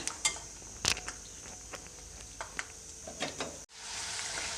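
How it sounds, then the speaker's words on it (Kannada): Peanuts fry in a pan of oil for an evening snack, with scattered utensil clicks and scrapes, then a steady broadband sizzle rises toward the end, fairly quiet and close. "ಒಂದು ಬಟ್ಲು ಶೇಂಗಾ ಬೀಜನ ತೊಗೊಂಡ್ಬಿಟ್ಟು ಎಣ್ಣೆಯಲ್ಲಿ ಹಾಕ್ಕೊಂಡು ಫ್ರೈ ಮಾಡ್ಕೊಳ್ತೀನಿ"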